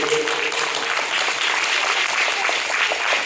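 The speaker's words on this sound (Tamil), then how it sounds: "அதுக்கு ஒரு நம்ம ஜோர கைத்தட்டல் கொடுக்கலாம் அந்த ப்ராஜெக்ட்க்கு" Members at a Rotary Club of Hosur family meet give a hearty round of applause, a thick, even wash of many hands clapping that holds steady without talk.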